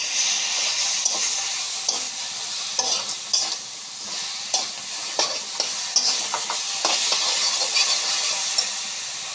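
Ginger-garlic paste fries hard in a pan for a crab curry, with a steady loud sizzle and hiss broken by repeated scraping strokes of a spatula, no voices.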